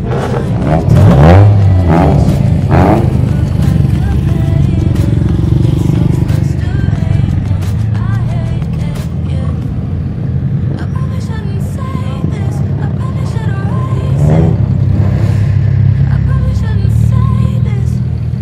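A Chevrolet Astra engine revved hard to its rev limiter at an Astra club meet in Jundiaí, loud bursts of revving with bouncing cutoff stutters, rattles and clatter alongside, with some crowd voices in the background.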